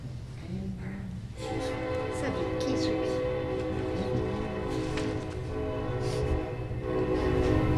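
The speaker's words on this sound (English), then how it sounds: "Let's wait for the train" A train rolls past outside a city council meeting with a long, loud horn blast sustained over the rumble of wheels and cars, heard indoors at some distance with people talking faintly.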